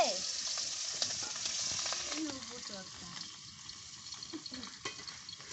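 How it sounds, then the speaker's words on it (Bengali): Hot oil sizzles and crackles steadily as stinging catfish (shing) shallow-fries in a pan, with occasional scraping stirs; some faint voice-like sounds sit in the background. "শিং মাছগুলো কিন্তু বেশি ভাজার দরকার নেই সামান্য একটু ভাজি হয়ে যাবে"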